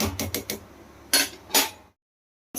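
Spoon scraping and clinking against a cooking pot as rice for mutton dum biryani is stirred, a few quick close knocks followed by two longer scraping strokes, then a pause before another clank.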